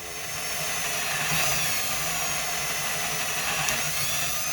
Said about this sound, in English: I'm gonna drill an angled hole